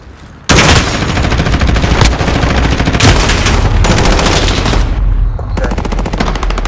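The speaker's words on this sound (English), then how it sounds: "Taking enemy fire." Loud, continuous automatic gunfire in Call of Duty: Modern Warfare, rapid rattling bursts starting abruptly and running almost without pause, close and dense.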